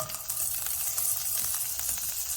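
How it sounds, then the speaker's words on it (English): Two tablespoons of butter melting in a skillet over medium to medium-low heat, giving a steady, even sizzle with a soft crackling hiss throughout and no talking. "we're going to melt 2 tablespoons of butter in the same skillet here"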